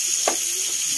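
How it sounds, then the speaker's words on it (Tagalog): Garlic sizzles in a pan while sautéing for a mung bean dish, a steady close hiss of frying oil with a faint stirring scrape, lasting about a second. "Pag nagigisa, sarap ng amoy ng bawang."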